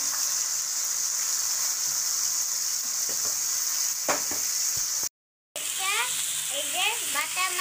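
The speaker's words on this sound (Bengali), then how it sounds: "মাছ ভাজবো। এগুলো হলো দেশি বাটা মাছ।" Native bata fish fry in hot oil with a steady, close hiss of sizzling that runs throughout, broken by a few sharp clinks and scrapes, a brief silent gap, then faint high voices in the background.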